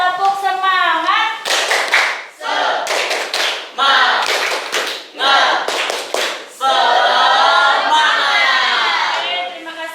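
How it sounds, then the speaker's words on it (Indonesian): A school class claps in quick rhythmic bursts in unison, sharp patterned volleys separated by brief pauses, with children's voices chanting and singing along between and over the claps. "Oke, 1, 2, 3, tepuk semangat."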